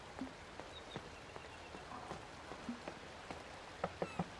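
Rain in the video game On Your Tail falls as faint scattered drops, with soft irregular taps on a surface against a quiet background hiss and a brief cluster of sharper drips near the end.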